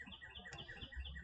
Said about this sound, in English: Pretty bird singing over there.